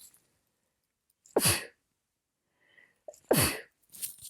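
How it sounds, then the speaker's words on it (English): Two sharp sneezes from one person, each a sudden loud burst with a quick intake before it, about two seconds apart in an otherwise quiet room. "I'm going to sneeze, excuse me."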